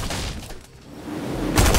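Bursts of gunfire in Fortnite Chapter 3, a rattling volley early and a loud close burst near the end, with no talking.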